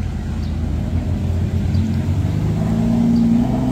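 A Ferrari 488 with British plates drives past on a Monaco street, its engine rumbling low and steady, then swelling slightly louder as it nears, with no talk.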